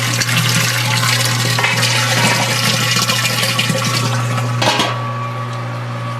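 A homebrew brewing system recirculating water while it heats, a loud steady rushing and churning of water with a constant pump hum, easing off and quieting near the end.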